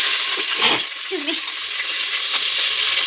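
Sliced onion drops into hot oil already holding cloves, cinnamon, marathi moggu and kasuri methi, giving a steady close sizzle with a brief stir and clatter near the start and no talking.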